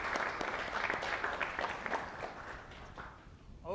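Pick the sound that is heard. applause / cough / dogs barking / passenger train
applause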